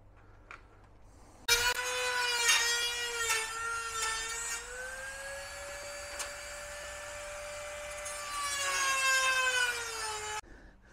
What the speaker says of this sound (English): we're going to get out the knockoff Dremel and cut this one down to